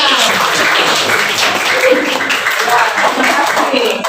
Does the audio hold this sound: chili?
no